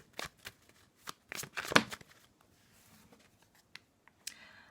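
A tarot card slid and laid down over another card: a run of quiet, close papery flicks and taps, several short crisp strokes clustered early, then sparse soft touches, with no voices.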